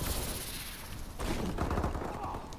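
Video-game gunfire from a Gun Game match, dense overlapping shots and bursts that swell into a louder volley midway, heard close and continuous.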